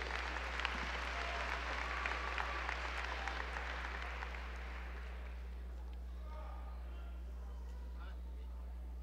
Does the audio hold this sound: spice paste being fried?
no